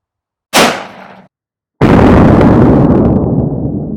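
A .500 Magnum firing a 700-grain load at ice outdoors, two very loud sharp blasts, the second a booming report that rolls and decays slowly over several seconds.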